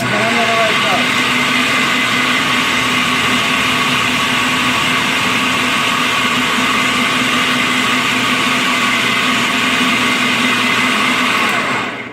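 A blender pulses frozen berries with a loud, close motor whir that runs steadily for about twelve seconds, then cuts off at the end. No one speaks.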